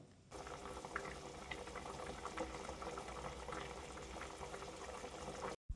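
An egg curry with ground spice paste boils steadily in a pot, giving a continuous dense bubbling and popping that stays even and close throughout, with no talking.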